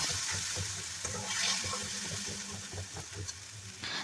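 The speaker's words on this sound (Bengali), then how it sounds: "আদা টমেটো বাটা কাঁচা লঙ্কা বাটা দিয়ে তেলের মধ্যে ভালো করে নেড়ে চেড়ে" Ginger, tomato and green chilli paste frying in oil, a faint close sizzle with gentle, continuous stirring scrapes and no voices.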